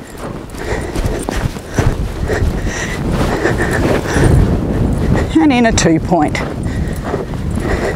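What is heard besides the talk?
horse hooves cantering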